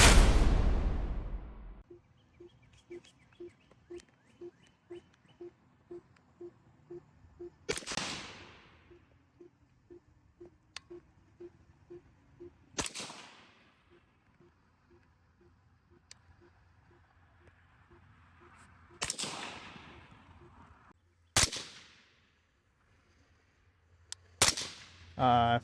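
Suppressed rifle shots crack out sharply, five loud reports spaced several seconds apart, with quieter rhythmic mechanical ticking between the first shots.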